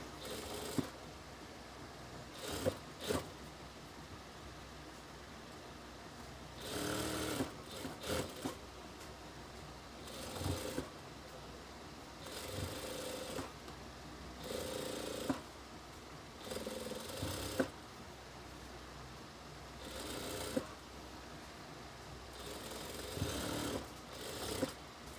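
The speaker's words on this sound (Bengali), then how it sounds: "আবার আমাদের এই কিনার দিয়ে আরেকটা সেলাই দিতে হবে" A sewing machine runs a stitch along the edge of a hijab made from an old scarf, whirring in repeated short bursts with quiet gaps between runs, close and steady.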